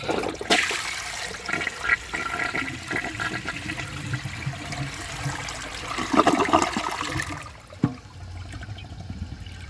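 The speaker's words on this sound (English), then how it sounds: "That was a nice flush." A 2012 Toto Drake toilet flushes with a strong, sustained rush of water lasting several seconds, then tapers to a quieter trickle as the tank refills; close and clear, with no talking.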